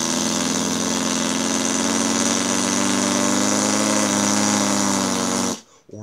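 A diesel engine idles with a steady, rumbling, throbbing drone, close and constant, then cuts off abruptly near the end.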